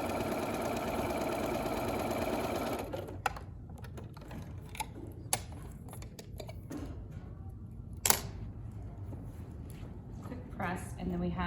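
A sewing machine stitches a 9 patch quilt block in a live demo, a steady close mechanical whirr for the first few seconds, then stopping to quieter handling noises with a few sharp clicks.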